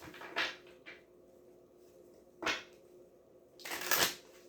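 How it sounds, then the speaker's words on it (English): Tarot cards being shuffled, three quick rustling riffles spaced a few seconds apart, quiet and close, with no talking. "So let's just shuffle them a little bit more"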